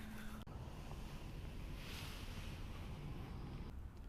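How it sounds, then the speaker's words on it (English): Water from a river overflowing its banks in spring rushes steadily outdoors, a dense continuous roar mixed with wind buffeting the microphone, with no voices. "the river often overflows here in the spring"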